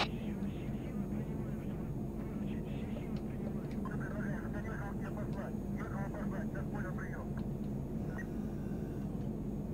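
Airplane touching down and taxiing off the runway in Arma III gives a continuous jet-engine rumble and whine, and a voice speaks quietly over it throughout.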